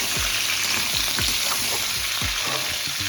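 Papaya and potato pieces fry loudly in a pan, a dense, continuous close sizzle with a few swishing stirs of a utensil through the hot oil and no voices.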